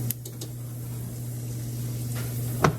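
Pancake batter frying in an oiled skillet gives a steady, soft sizzle that holds evenly throughout, with a couple of faint clicks near the end and no voices.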